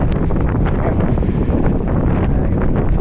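Wind buffets the microphone outdoors at a city street corner around Water and Barrington Streets, a steady low rumbling roar with gusty rustle lasting throughout, loud and close, with no voices.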